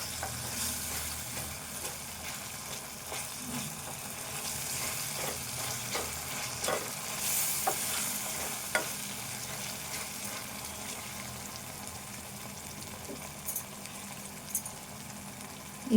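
Tomatoes cooking down in a pan with salt for a Telugu potato fry give a steady close sizzle throughout, broken by scattered scrapes and taps of a spoon stirring, with no voices.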